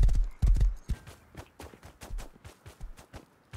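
Horse hooves clip-clop in an uneven trotting rhythm in the video game Rust, close and distinct, with heavier thuds early on and no talking.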